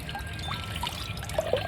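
Water poured from a little tub onto potted plants, a soft, continuous trickle and splash with a few brighter drips near the end, close and fairly quiet.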